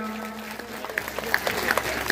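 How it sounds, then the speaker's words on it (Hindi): Applause from an audience at a Bhagwat Katha religious gathering in Changoi, moderate clapping building with sharper individual claps, heard somewhat distantly over a steady hum. "तो श्रवण सिंह जी भाटी साहब के लिए जोरदार तालियां।"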